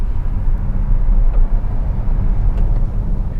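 A 2022 Hyundai Ioniq 5 all-wheel-drive electric car accelerates hard, giving a steady, loud low rumble of road and wind noise with no engine note and no voices.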